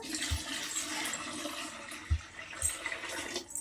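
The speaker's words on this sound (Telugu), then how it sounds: "ఇప్పుడు మనం ఇందులోకి ఒక లీటర్ నీళ్ళని అయితే వేసుకుందాము" One litre of water pours into a chilli mixture for a pickled chilli recipe, giving a continuous splashing, gushing flow with a few low thuds, close and moderately loud, with no talking.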